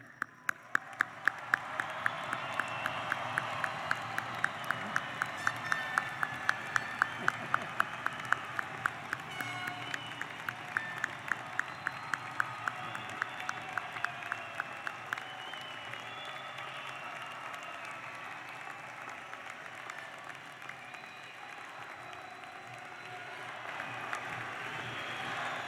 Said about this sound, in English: a standing, stomping, yelling, enthusiastic round of applause